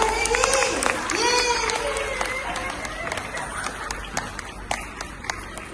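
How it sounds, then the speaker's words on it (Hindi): An audience claps after a stage play, a dense patter of clapping with crowd noise, while a voice talks over it near the start. "ताली बजेगी ना ताली बजेगी"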